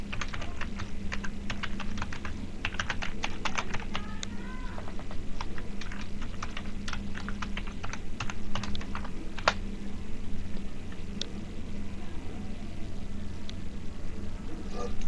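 Fingers type a username on a computer keyboard, bursts of quick light key clicks near the microphone, then trailing off into a steady low background hum.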